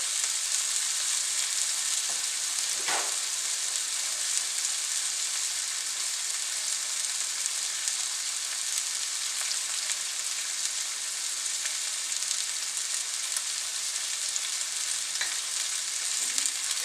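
Lamb loin chops searing in a skillet: a steady, loud, even sizzle that holds throughout with no talking, broken by one faint scrape.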